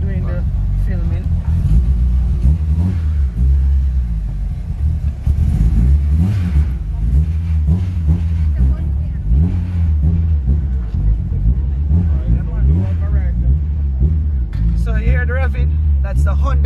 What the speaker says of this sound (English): this car revs like a bike